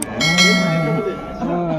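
Dairy cows low in long, drawn-out calls close by at the Punganur cattle market, with a bell clanking briefly in a busy livestock setting.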